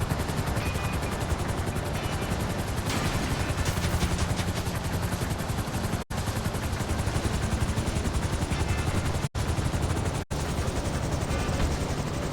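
A helicopter in the video game GTA V gives off a steady, loud, dense rotor and engine roar that continues without pause, with only a few abrupt momentary dropouts.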